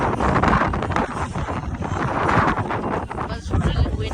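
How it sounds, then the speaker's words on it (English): Strong wind buffets the microphone at an outdoor air show, a loud, rough, continuous rumble and roar with gusty swells. "But it's really windy"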